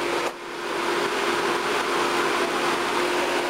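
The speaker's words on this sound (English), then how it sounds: "The noise you can hear underneath, that's the traction motor blowers in the nose end," Steady whirring drone of the traction motor blowers in the nose end of DRS class 37 locomotive 37038, a constant broadband roar with a faint tonal hum, close and unchanging throughout.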